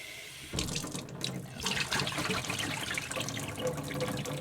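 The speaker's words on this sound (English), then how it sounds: "So we're gonna go ahead and rinse our alfalfa seeds." Tap water runs steadily into a sink to rinse alfalfa seeds in an off-grid Alaska home. It starts suddenly after a brief quiet moment, then becomes a loud, continuous splashing close by, with no talking.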